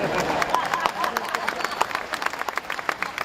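Stand-up comedy crowd breaking into applause at a live show, a dense wash of many hands clapping at once with scattered sharper claps standing out, moderately loud and continuous throughout.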